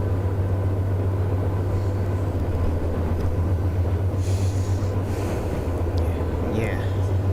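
A continuous low rumble of a video game train with a steady droning hum, heard alongside faint murmuring voices and occasional light clicks.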